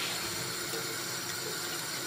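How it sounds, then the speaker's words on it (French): Tap water runs steadily from a faucet to rinse a foam beauty blender makeup sponge, close and continuous. "Je vais remettre de l'eau."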